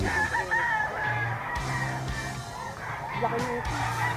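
Young roosters (stags) crow repeatedly at a Philippine gamefowl market, several overlapping cock-a-doodle-doo calls and clucks close by, with other birds in the background and no clear talk.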